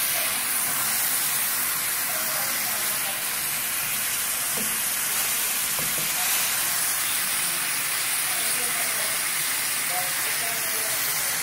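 Steak frying in a pan sizzles with a loud, dense, steady hiss throughout, close and continuous.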